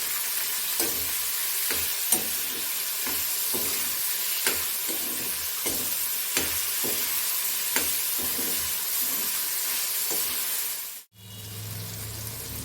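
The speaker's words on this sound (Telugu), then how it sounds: "సన్నగా కట్ చేసిన టమాటా అండ్ ఒక చికెన్ వేసి కలుపుకోవాలి" Chicken with chopped onion and tomato frying in a pan, a steady hissing sizzle with regular soft scraping stirs about once a second, close up, cutting off abruptly near the end.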